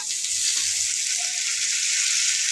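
Potatoes frying in hot oil in a pan give a steady, bright sizzle that carries evenly throughout, close and continuous with no talking.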